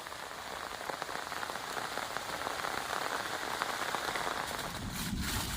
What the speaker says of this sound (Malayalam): നല്ല മഴയായിരുന്നേ, അതുകൊണ്ട് പിറച്ചിട്ടൊന്നും പറയാനൊന്നും പറ്റണില്ല.